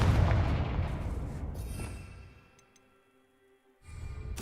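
Confringo blasting spell explosion in the video game Hogwarts Legacy: a loud, rumbling blast that fades into quiet, followed by another burst of noise at the end.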